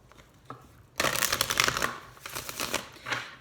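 A deck of tarot cards is shuffled in a quick riffling burst of papery flutters and snaps, close up and fairly loud, after a short quiet lead-in.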